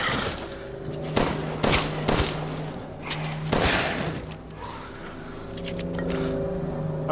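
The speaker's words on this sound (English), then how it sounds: "Surely he heard me shooting." Gunfire in the survival horror game Resident Evil Village: several loud, sharp shots crack in quick succession over low ambient rumble, then fade into a quieter, tense game soundscape.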